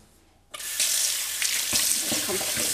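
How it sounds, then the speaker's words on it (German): Faucet water comes on abruptly after a short quiet moment and then runs steadily as freshly dug dandelion and chicory roots are rinsed under the stream, with faint scrubbing and knocking sounds in the sink. "jetzt kommt reichlich Wasser drauf und dann die Gemüsebürste"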